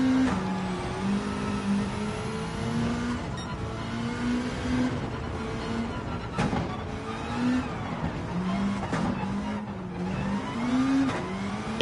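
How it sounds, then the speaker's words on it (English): A race car with a straight-cut gearbox in Gran Turismo 7 at the Colorado Springs circuit revs repeatedly, its engine note rising and falling over a whining gear drive, loud and continuous. "You just hear the gears crunching in the straight cut."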